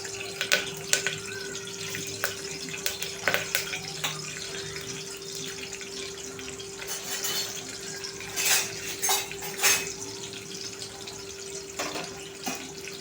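Green chilies and curry leaves sizzling in about three spoons of hot oil in a small pressure cooker, a soft continuous crackle with scattered sharp pops and spits and a steady faint hum underneath.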